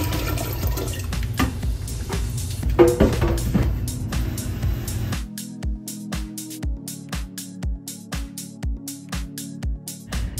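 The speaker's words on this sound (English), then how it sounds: "I started pouring the water into the pitcher for the party" Water is poured into a pitcher during 4th of July party prep, a rushing splash at first, then a run of quicker rhythmic trickling and glugging pulses as it fills.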